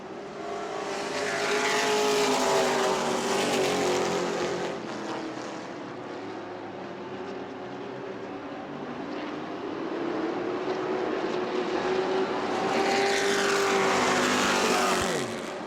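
Trucks race around an oval track in a weekly racing event, engines roaring loud as a pack sweeps past, fading to a steadier drone midway, then swelling again as they come around.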